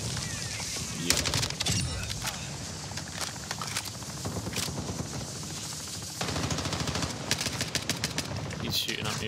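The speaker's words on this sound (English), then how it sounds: "He's shooting at me from up top there." Dense, continuous automatic gunfire from an enemy shooting down from above in Call of Duty DMZ, rattling bursts layered over heavy game noise, loud and unbroken throughout.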